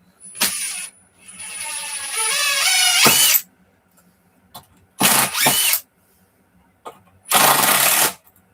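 Screws driven up from underneath into a wooden workbench top with a power driver, a few short whirring bursts with quiet gaps between, close and moderately loud.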